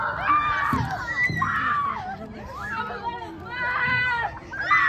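Children at a park scream and shout in a busy jumble of high-pitched cries, mixed with kids talking nearby.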